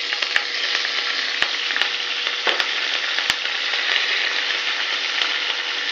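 Curry leaves dropped into hot oil with hing in a pan for tomato chutney, a loud continuous crackling sizzle with a few sharp pops, steady throughout with no talk.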